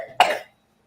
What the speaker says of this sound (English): you should put your hand over your mouth when you cough